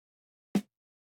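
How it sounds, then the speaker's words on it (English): A single short, quiet snare drum hit sampled from a track, sounding once alone in silence. "So next up I took a snare from one of his tracks and it just turned out pretty standard like this."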